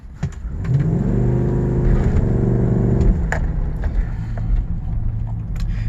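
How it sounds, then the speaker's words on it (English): Chevrolet Silverado engine held at full throttle against the brakes in a stall test, a loud steady roar with rising harmonic drone that climbs for about three seconds then drops back to a rough, lower idle rumble. "I'm just gonna go full throttle and see how high it goes off the bat"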